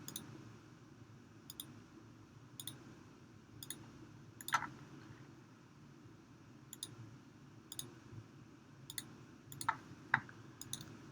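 Sharp mouse clicks at irregular intervals, some single and some in quick pairs, over a low steady background hum.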